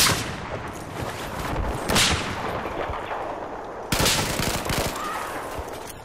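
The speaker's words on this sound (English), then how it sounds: "They're firing at me." Battlefield 4 gunfire in an Obliteration match, with sustained bursts of automatic weapons and heavy blasts, loud and dense, the sharpest bursts near the start and again around the middle.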